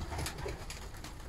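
Racing pigeons coo in soft, repeated low calls at a pigeon racing event in Kashubia, close by over a rough background with no speech.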